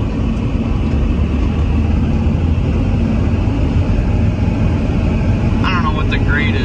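A 1983 Mercedes 300TD diesel wagon pulling up a hill, its engine a constant loud drone heard from inside the car, with steady road and wind noise.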